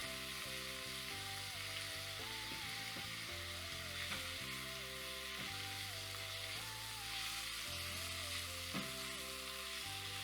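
Onions frying in olive oil in a pan give a steady close sizzle that runs throughout, with occasional stirring and faint background music underneath.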